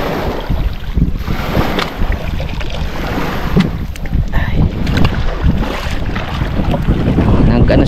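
Steady rush of wind and water around a small boat, waves sloshing and slapping continuously with no engine noise, loud and close throughout.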